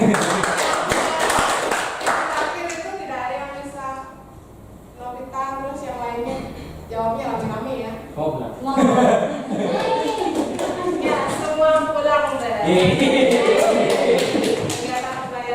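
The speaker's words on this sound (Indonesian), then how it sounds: "Tepuk tangan untuk kalian." Scattered hand clapping from a group of students in a classroom during a differentiated-learning lesson simulation, uneven and fairly close, running under continuous overlapping talk and voices for most of the stretch.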